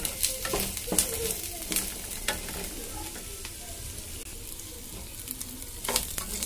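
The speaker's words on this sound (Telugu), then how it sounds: "ఇవి కూడా లైట్గా ఫ్రై చేసుకోవాలి," Ingredients frying lightly in a pan while being stirred, a soft steady sizzle broken by sharp scraping and tapping strokes of the spatula at irregular intervals, close and moderately quiet.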